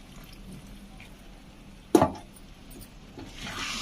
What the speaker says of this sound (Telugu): లైట్గా వాటర్ వేసుకోవాలి